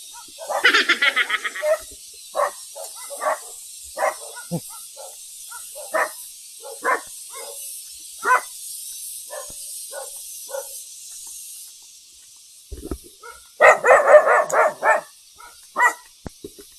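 Dogs bark repeatedly at a distance, short sharp barks in an irregular series, with a louder burst of barking near the end.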